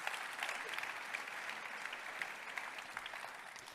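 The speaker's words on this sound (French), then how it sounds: "Bravo. On les applaudit." An audience claps steadily for a few seconds at a Brittany business awards ceremony, a dense, even patter of applause without cheering.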